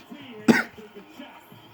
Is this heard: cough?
yes